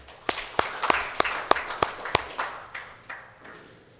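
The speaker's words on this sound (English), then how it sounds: "Let's give Chris a round of applause again." Applause for a presenter at a Pacific Island legislators' board meeting: a small group claps in a sparse, distinct run of about a dozen sharp claps that thin out and fade over a few seconds.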